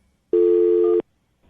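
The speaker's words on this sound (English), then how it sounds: "I'm going to dial the phone number right now." A single steady telephone tone sounds clearly for under a second as a call is placed, then cuts off to near silence.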